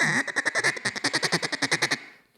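A champion caller blows a fast duck call roll, around fifteen evenly spaced, bright clipped quacks in a quick rhythmic run that ends abruptly, close and clear.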